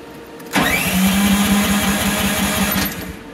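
Mini excavator engine cranking to life after the key is turned with the choke partly pulled, the motor catching at once and settling into a steady, loud, close running chug for a few seconds before fading slightly.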